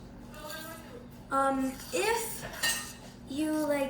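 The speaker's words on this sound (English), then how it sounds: "We're gonna add the rest of our flour and continue mixing, and then add our chocolate chunks." A spoon stirs guiltless brownie batter with flour in a bowl, clinking and scraping against the dish in short bursts while voices talk over it.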